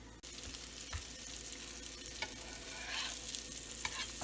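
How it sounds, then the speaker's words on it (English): Sandwiches wrapped and set on a griddle pan, toasting with a steady broadband sizzle and a few soft clicks and knocks, nearby and moderately loud, no voices. "we're going to wrap the sandwiches and put them here on the griddle pan"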